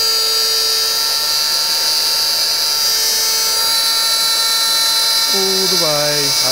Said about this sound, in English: So, router goes on.